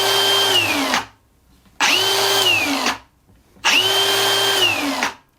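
A Milwaukee M18 FAG125 XPDB cordless angle grinder with rapid stop and variable speed runs up three times. Each loud, steady whine lasts about a second, then dies quickly before a short silence, with no talking.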